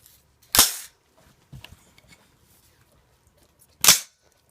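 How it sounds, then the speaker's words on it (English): A carbine's action cycles twice, once with a standard spring and once with a flat wire spring, each a sharp metallic clack, with faint handling clicks in between. "I've got a video that shows first a standard spring and then the flat wire spring"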